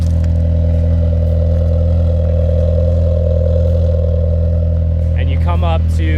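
A Chevrolet Cobalt engine idles steadily after an exhaust repair. The idle is a loud, constant hum with a low rumble, and there is a brief clatter near the end.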